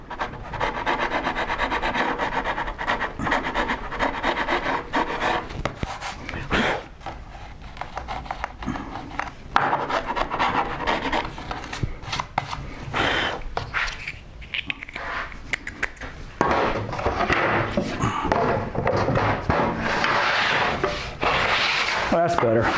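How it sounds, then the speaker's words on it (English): A chisel scrapes dried glue off a wooden melamine crosscut sled in a woodworking shop, producing continuous close rasping and rubbing strokes with occasional knocks. "I'm gonna get the chisel, get that glue off."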